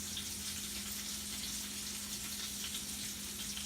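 Onion fries in a pan with a continuous, even sizzling hiss over a low steady hum, with no voices.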